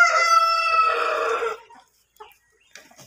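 A Light Sussex rooster crows loudly and close in one long call, followed by quieter scattered clucks from hens.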